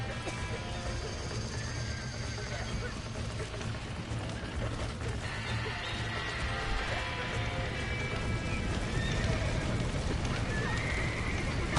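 Horses whinny amid a busy mix of hoofbeats, clatter and mechanical noise, with voices shouting underneath, all fairly loud and continuous, in the video game Red Dead Redemption.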